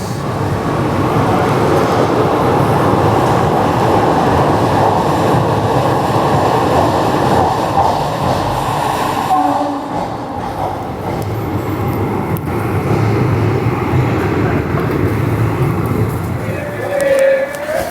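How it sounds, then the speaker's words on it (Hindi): A Rajya Rani Express train standing at a platform of Purna Junction station, with a steady loud rumble of idling locomotive and station bustle running throughout. A voice talks over it at times. "पूर्णा जंक्शन के प्लेटफॉर्म नंबर 3 पे खड़ी है मुंबई हजूर साहिब नांदेड़ राज्य रानी एक्सप्रेस"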